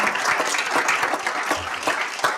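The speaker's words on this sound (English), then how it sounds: "can we please give her a round of applause?" Brief round of audience applause at a school board meeting, steady crowd clapping at moderate volume throughout.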